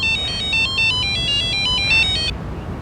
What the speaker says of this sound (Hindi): राम कृपाल जी को भी अभी फोन करना था।